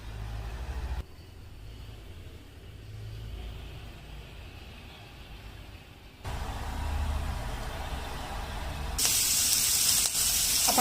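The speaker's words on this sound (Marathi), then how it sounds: "मी फोडणी करून त्यामध्ये कांदा फ्राय करून घेईन आणि कढीलिंब, मिरची हे पण घालून घेईन" Tempering in hot oil with onion, curry leaves, green chillies and peanuts: a low, muffled rumble gives way to a sudden, loud burst of bright sizzling hiss near the end.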